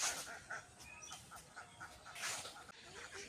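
Ducks kept at a village home in rural Bangladesh give faint, scattered quacks and honks within a busy, noisy outdoor background.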